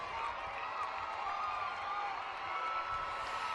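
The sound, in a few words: applause and cheering from graduation ceremony audience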